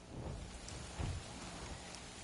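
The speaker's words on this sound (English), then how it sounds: "And it does happen to be raining." Steady rain hisses continuously at low level in the video game Avatar: Secrets of the Spires, with a brief low rumble partway through; no one speaks.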